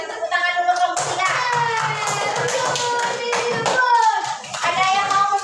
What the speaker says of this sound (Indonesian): Kan tepuk tangan dulu kelompok 3.